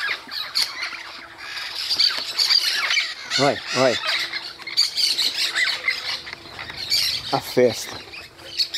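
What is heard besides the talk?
parrots and parakeets squawking in trees by river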